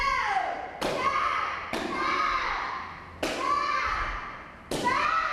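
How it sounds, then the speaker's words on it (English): Four or five sharp cracking thuds ring out as a young martial arts student breaks boards with front kicks, side kicks, a skip side kick and a palm strike, spaced about a second apart, with children's voices and murmuring around. "demonstrate a multiples or break, front kick, side kick, skip side kick, and a palm strike"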